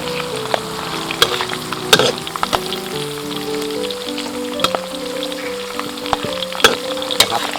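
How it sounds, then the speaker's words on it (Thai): Kaffir lime and pandan leaves deep-frying in hot oil, a loud continuous bubbling sizzle with scattered pops and stirring knocks, and faint tonal hum running underneath. "ทอดสมุนไพรก่อนนะครับ"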